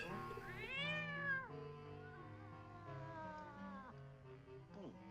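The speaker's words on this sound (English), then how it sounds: "So he's got a cat." A cat meows in a Star Trek original series episode, two drawn-out rising and falling meows over a soft musical score, then a short final mew, fairly clear and close.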